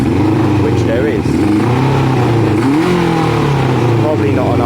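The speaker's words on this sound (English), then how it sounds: "Now we can test our throttle response and listen and see if there's any delay in revs" A Kawasaki ZL600 motorcycle engine revs up and down during a throttle response test, loud and close, with rising and falling pitch over a steady idle rumble.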